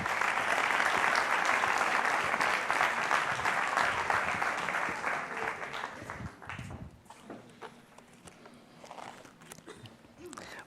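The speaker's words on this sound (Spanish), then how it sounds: "Un aplauso para él, por favor." A room full of people applauding, dense clapping that gradually fades over several seconds, leaving scattered claps and faint movement noise.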